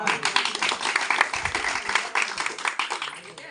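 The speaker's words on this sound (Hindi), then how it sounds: "सब लोग अपने लिए जोरदार तालियां" A gathered crowd claps loudly and steadily for a few seconds, a dense, close burst of applause without pause.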